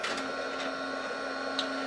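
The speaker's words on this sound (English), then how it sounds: "once the printer finishes rebooting" A DTF printer running through its reboot cycle, with a steady mechanical hum and whirring under a faint tonal whine, plus a few soft clicks, heard close.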